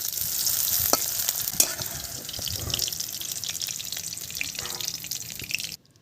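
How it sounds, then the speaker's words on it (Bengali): Food is stirred briefly in a hot pan, a continuous hiss of frying with scraping strokes and occasional clinks of the spoon, fairly close and steady, before cutting off abruptly into silence near the end. "ভাজবো না যাক দিয়ে একটু নেড়ে চেড়ে তুলে নেবো কাঁচা গন্ধটাকে দূর করা"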